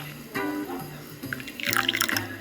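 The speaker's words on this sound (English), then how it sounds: "Ooh, y'all heard Michelle pouring some coffee" Coffee is poured into a Delta mug, a close liquid trickle and splash that builds toward the end of a short pour, heard alone without talk.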